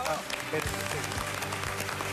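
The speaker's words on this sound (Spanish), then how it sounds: "la recibimos con un gran aplauso" Studio audience applause welcoming a guest, an Argentine writer and speaker, onto a TV talk show, steady clapping through the whole short stretch with voices mixed underneath.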